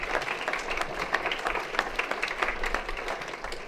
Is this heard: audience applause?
yes